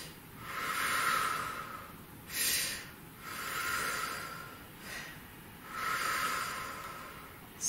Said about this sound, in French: 4 respirations.